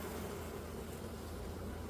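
Honey bees buzz during an early-spring beehive inspection in Melbourne, a faint continuous hum that holds steady and alone throughout.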